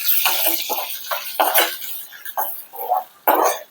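Soaked mung dal sizzling as it is stirred and sautéed in a pan for a spinach bhaji, with scraping and clinking of a spoon against the metal in short uneven bursts close by.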